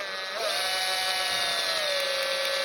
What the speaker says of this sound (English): Chuck that into your drill. Now we're gonna send this down into the posts to make a pilot hole.